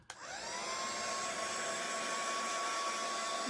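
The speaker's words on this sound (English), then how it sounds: "Okay, got my little heat gun here." A heat gun on its low setting blows over a diorama background piece to dry it, a steady close airy whoosh with a faint whine that starts abruptly and holds level throughout, no voices.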